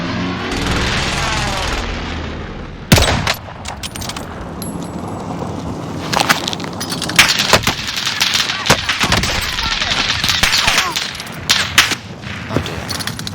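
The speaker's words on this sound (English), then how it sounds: "Taking heavy fire here." Heavy gunfire in the Call of Duty Warzone game, with loud repeated shots and booming bursts over constant battle noise, and a voice talking.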